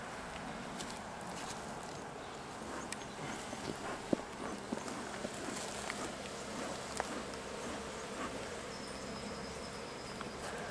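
A feral honeybee colony inside a tree limb produces a steady, soft insect buzz throughout, with a few sharp knocks and shuffling steps nearby.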